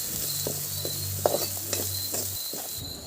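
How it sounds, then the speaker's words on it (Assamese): Onions fry in a wok that was just used for frying fish. A steady, fairly soft sizzle runs throughout, broken by a few light stirring taps, with no voices. "মাছ ফ্ৰাই কৰা কেৰাহীতে দি দিছোঁ পিঁয়াজখিনি"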